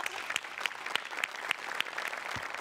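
An audience claps loudly in unison, a brief burst of sharp, evenly spaced hand claps.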